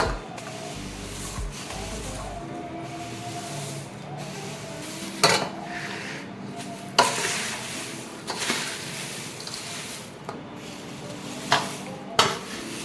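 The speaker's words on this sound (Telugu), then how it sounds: "కొంచెం చల్లనించి చేత్తో కింద మీద బాగా కలిపించుకోవాలండి" Jowar flakes and a peanut snack mixture are tossed by hand in a metal bowl, giving a steady soft rustling and scraping with several sharper clinks against the rim, close and moderately loud, with no talking.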